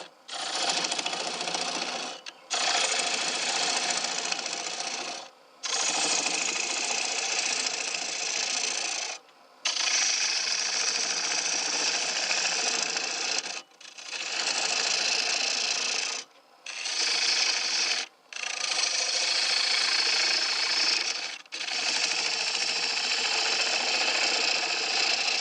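A wood lathe turns a bowl while a tool cuts out its center, giving a steady, harsh scraping whine in long bursts separated by brief pauses as the cutter is lifted away; no one speaks.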